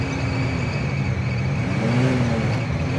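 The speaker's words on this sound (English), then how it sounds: "just look how nice this little 283 2-barrel goes down the road" A 1957 Chevy Bel-Air with a 283 two-barrel V8 and two-speed Powerglide automatic cruising down the road, a steady low engine drone with road noise heard from inside the car, a slight swell partway through.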